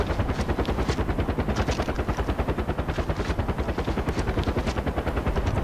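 In the Far Cry 4 game, gunfire and a helicopter make a dense, continuous pulsing roar of rapid thumps that stays loud and steady throughout, with no talk.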